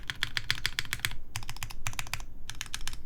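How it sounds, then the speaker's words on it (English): Modifier keys on a custom 60% RME Studio Alas mechanical keyboard, pressed in quick bursts of clicky clacks separated by short gaps. The clacks are close and clear. "Modifiers sound pretty solid."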